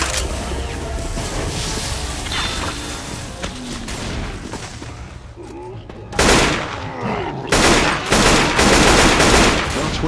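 Gunfire in Left 4 Dead 2 on the Dead Center campaign, a near, continuous clatter of shots over game noise, jumping to louder bursts in the second half.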